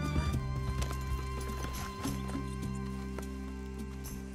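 Horse hooves clip-clopping in Red Dead Redemption 2, with a steady run of close, distinct hoof strikes over constant game ambience and a brief whinny near the start.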